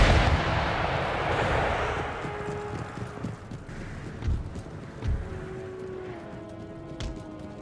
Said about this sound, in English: Just use a unit of howitzers to engage their foot artillery.